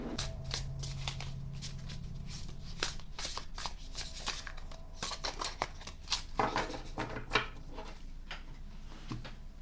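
A bendy tarot card deck being riffle shuffled at close range, with several sharp bursts of fluttering card clicks and quieter handling noises between them.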